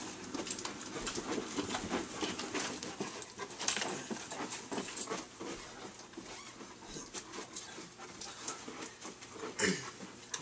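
A dog pants steadily while jogging at a brisk pace on a walk, close and fairly quiet, with footfalls pattering along and no talking.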